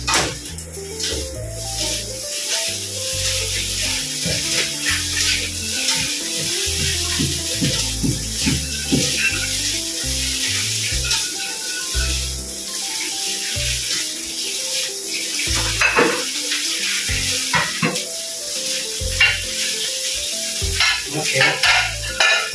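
Food frying in a pan is stirred repeatedly, with loud scraping strokes and clatter over a steady sizzle, and the rhythm is irregular across a long stretch without speech.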